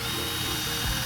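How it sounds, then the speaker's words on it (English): A power drill drives a screw into the wooden frame of a 25-year-old table, a loud close motor whir with grinding and ratcheting that rises near the end. "when you drill this into the frame, it's gonna create a stronger connection between the two pieces of wood"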